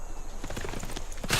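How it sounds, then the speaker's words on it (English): Horse hooves clip-clopping in the strategy game Civilization 6, a quick run of close, distinct hoofbeats with a brief whinny-like burst at the end. "that horse just ran off into the ocean"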